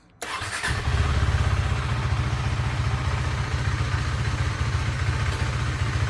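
A KTM Duke 390 motorcycle starts up and settles into a loud, close, steady single-cylinder idle with an even low thumping pulse.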